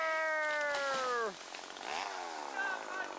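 A chainsaw cutting down a cherry tree in a field, its high whining engine revving then dropping off as it bogs into the wood, followed by quieter idling and faint voices.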